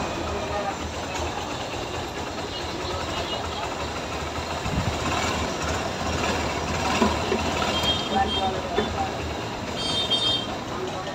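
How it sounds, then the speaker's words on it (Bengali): A repaired Honda Hornet 160 motorcycle engine runs continuously with a rough, mechanical drone, swelling a little louder partway through before settling again. "এই তো বাইকটার সাউন্ড শুনলেন"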